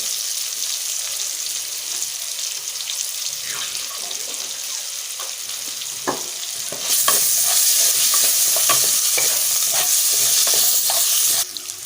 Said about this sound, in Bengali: আমি আলুগুলো তো অল্প লবণ আর সামান্য একটু হলুদ দিয়ে ভেজে নেব